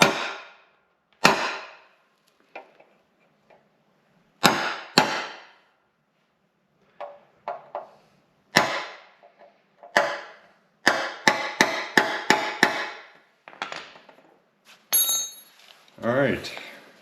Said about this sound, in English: we're just going to remark them with a punch